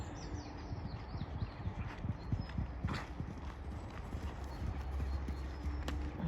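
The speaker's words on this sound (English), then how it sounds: "She has got a great gallop on her" Hooves clip-clop in a fast rhythmic gallop over steady outdoor background noise, with faint birdsong and no talking.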